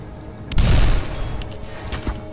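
Gunfire from the video game Black Mesa in an outdoor area: a loud close burst of booming shots, followed by a few sharper, fainter cracks scattered through the remaining seconds.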